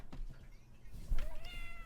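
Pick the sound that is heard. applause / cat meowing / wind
cat meowing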